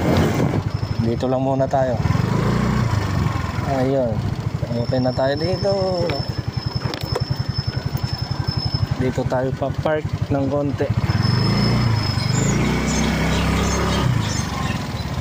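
A motorcycle engine with a suspected ticking noise and an oil leak runs steadily at idle with a low, even throb, while someone talks over it now and then.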